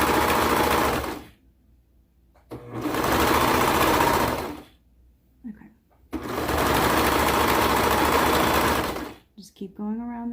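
A sewing machine stitches around the neckline of a sleeved peplum top in three long, loud runs of rapid whirring, separated by short pauses with brief voices in the gaps.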